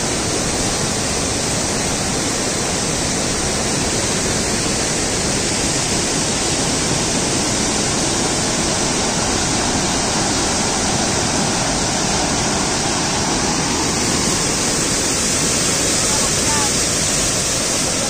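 Rushing floodwater roars steadily during monsoon rain, a loud, dense wash of noise that never lets up, close and overwhelming throughout.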